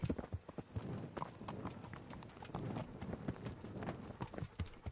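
A horse trots in Kingdom Come: Deliverance, a medieval game, its hooves clip-clopping in a steady, fairly close rhythm throughout with a faint snort or whinny-like breath mixed in.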